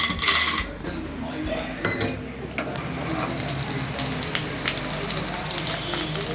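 Peanuts sizzle in hot oil with mustard seeds, cumin and asafoetida for churumuri, a steady close crackle and hiss with occasional clinks of utensils.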